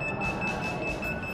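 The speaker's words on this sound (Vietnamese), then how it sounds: "báo động" An electronic alarm buzzer on an Arduino keypad door-lock security system sounds after repeated wrong password entries, giving a steady, piercing high tone with faint pulsing underneath.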